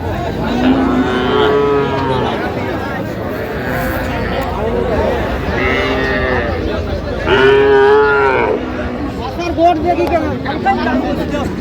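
A young bull calf moos repeatedly at a busy livestock market, with several loud drawn-out calls rising above the constant murmur of traders talking and bargaining in the background.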